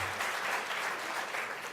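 Audience applause at the U.S.-Africa Leaders Summit after a speaker introduces Michael Bloomberg, a brief, even burst of clapping heard at a moderate distance, somewhat faint.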